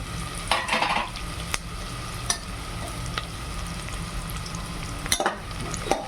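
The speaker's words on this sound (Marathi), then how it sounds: "कांदा मस्त आपल्याला गोल्डन फ्राय होईपर्यंत तळून घ्यायचा." Chopped onion frying in a pan with whole spices for a one-pot khichdi: steady sizzling in oil with occasional stirring scrapes and clinks of utensils against the pan, no talking.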